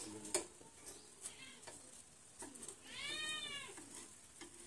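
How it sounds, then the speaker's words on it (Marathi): An aloo paratha roasts on a hot griddle with a faint, steady sizzle and crackle. A few soft clinks of a utensil are heard, and there is no talk. "ह्याच्या चारी बाजू अशा व्यवस्थित अशा शेकल्या जात आहेत"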